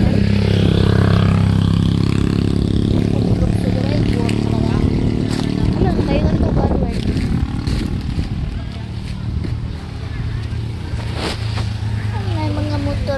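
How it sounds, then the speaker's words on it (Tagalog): Several motorcycles pass on a road at a high, windy spot, their engines droning steadily and loudly while people talk over them. "May mga motor na mga daghang kaayon."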